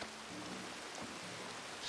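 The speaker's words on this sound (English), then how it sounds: "It's raining heavy." Heavy nighttime rain in Red Dead Redemption 2 makes a dense, even hiss of downpour hitting surfaces. It holds steady and fairly soft for the whole moment, with no voices.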